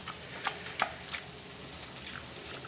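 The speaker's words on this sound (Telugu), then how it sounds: "ఇలా చేపలను కూడా వేసుకొని ఇలా కిందకి పైకి మిక్స్ చేసుకోవాలండి." Small fish being tossed up and down in a pan for a spicy Andhra-style fish curry, with soft scraping and light clinks from the stirring over a quiet sizzle, close and low in level, no talking.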